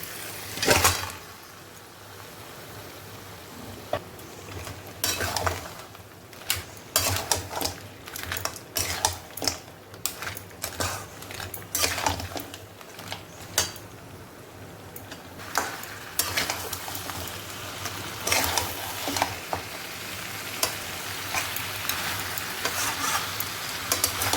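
Crab goes into a frying pan with parboiled potatoes for a crab masala, followed by steady frying sizzle and repeated clanking stirs of a spatula against the pan, close and with no talking.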